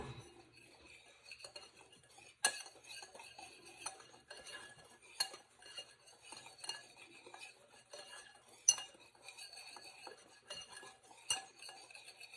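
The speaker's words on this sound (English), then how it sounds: "So then you just want to whisk it." Quick metallic whisking of ingredients in a cup for a cake batter, a steady ticking of light clinks with a few sharper knocks, moderately close and fairly quiet, with no voices.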